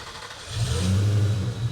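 A supercharged 5-litre FPV King GT engine on a dyno, deep rumbling and building in loudness into a strong, steady roar, close and without speech.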